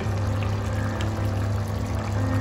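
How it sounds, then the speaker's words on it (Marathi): A pot of crab curry bubbles at a steady simmer, close up, with a continuous low burbling and no voices. "आता मस्त उकळी आली आहे."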